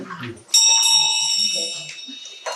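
A bell rung at a Chod retreat sounds one bright, sustained metallic tone that slowly fades, with quiet voices murmuring beneath it.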